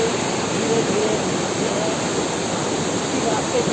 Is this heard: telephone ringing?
no